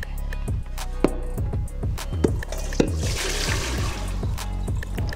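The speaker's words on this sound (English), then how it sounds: "we got the potatoes, they in the sink, they in the colander. Listen, it's drying, right? We getting those to drip all of the water" Boiled potatoes sit in a colander in a kitchen sink, water dripping and trickling in irregular close taps and splashes, with a few sharper knocks and a brief rush of running water midway.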